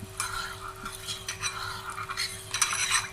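A spoon scrapes and clinks inside a pot while zarda food colour is mixed into chicken biryani, quick irregular stirring strokes, close and fairly quiet over a steady low background hum.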